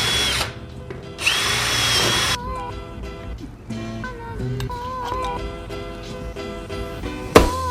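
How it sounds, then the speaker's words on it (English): A power drill whirs loudly in several short runs, its motor pitch rising and falling between pauses, with clanks and knocks of work in between. "then we will drill our holes right here"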